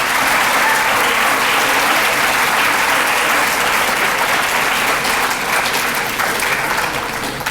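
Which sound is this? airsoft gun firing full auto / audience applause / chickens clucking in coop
audience applause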